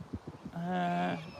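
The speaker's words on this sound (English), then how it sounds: "The goose is about to do a successful launch." A goose on a rural trail gives one long, loud, nasal honk as it prepares to take off, preceded by a few quick flapping or paddling sounds nearby.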